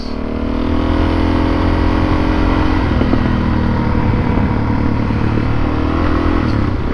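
A Suzuki DRZ400S dual sport motorcycle engine drones loudly and steadily, close up, with rushing wind and faint clatter while riding at a constant pace.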